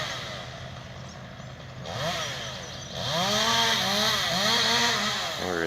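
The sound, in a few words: chainsaw cutting tree branches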